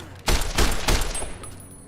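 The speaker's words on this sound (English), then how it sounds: "Whoa, Boone, who are you shooting?" Gunshots fired by the companion Boone in Fallout New Vegas ring out as three heavy, booming rifle reports in quick succession, loud and close, with a ringing tail after the last.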